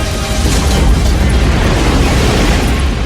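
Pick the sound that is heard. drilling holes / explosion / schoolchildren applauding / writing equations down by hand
explosion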